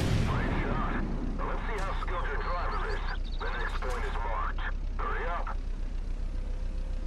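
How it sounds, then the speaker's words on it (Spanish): A modern tank's main cannon fires in Armored Warfare on PS4, a heavy boom at the start followed by a sustained rumble, with someone talking over it throughout. "Derpy, carguen cañones principales."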